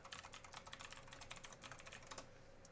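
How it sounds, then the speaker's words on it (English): Fast, continuous keystrokes on a computer keyboard, soft and close, an even stream of clicks that trails off near the end over a low background hum. "Y'all impressed by what typing?"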